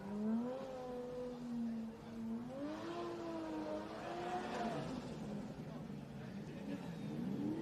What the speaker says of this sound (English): Mitch Jeffrey putting on some burnouts.